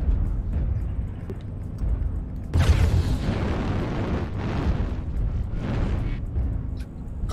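Mech weapons fire and explosions from the MechWarrior Online video game, with a sharp boom burst followed by rumbling, rolling blasts and crackling impacts, loud and dense throughout.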